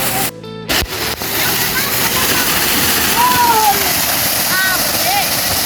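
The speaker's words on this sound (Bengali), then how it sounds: "এই পানি অলমোস্ট 180 থেকে 200 ফুট গভীরের থেকে একদম কোর থেকে উত্তোলন হয়" Cold water drawn from a well pump 180 to 200 feet deep gushes continuously and close, a steady loud splashing rush after a few brief knocks at the start.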